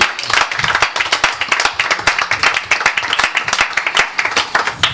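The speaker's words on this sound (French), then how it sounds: "Est-ce qu'on peut acclamer? Voilà, on acclame." A church congregation breaks into sustained applause, dense overlapping hand claps filling the space at close range, steady and lively throughout with no talk over it.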